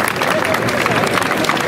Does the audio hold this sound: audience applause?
yes